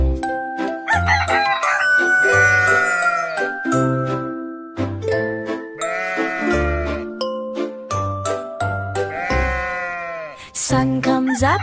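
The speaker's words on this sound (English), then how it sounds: "Sun comes up, rooster crows, cock-a-doodle-doo." Rooster crowing in a children's nursery-rhyme song, repeated bright crowing calls over musical accompaniment with bells and singing, loud and close.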